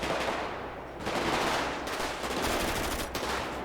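Rapid gunfire rattles in a GTA V zombie mod, loud and close, coming in repeated automatic bursts with short gaps over a few seconds, with no talking.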